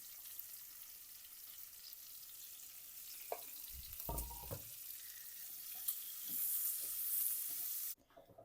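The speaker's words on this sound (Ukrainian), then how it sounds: "І трошки-трошки підсмажуємо." Onion half-rings fry gently in a pan for Polesian potato pancakes with meat, giving a soft, steady hiss with a few low knocks and bumps partway through, before the sound cuts off abruptly near the end.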